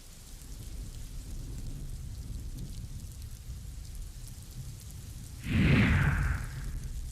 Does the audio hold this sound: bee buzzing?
no